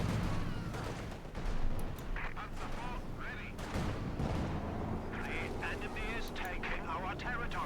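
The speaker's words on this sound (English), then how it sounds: "Panther barrage called in this time, they're completely whiffing on the barrage." An artillery barrage in the World War II strategy game Company of Heroes 2: distant booming shell impacts and rumbling gunfire under continuous commentary from a caster.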